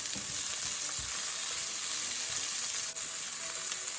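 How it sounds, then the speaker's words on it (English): Prawns fry in jerk seasoning in a pan, giving a steady, close hiss of sizzling oil that runs unbroken through the whole stretch with a few faint stirring scrapes. "I'm going to give my prawns about 3 to 4 minutes to cook down here in the jerk seasoning"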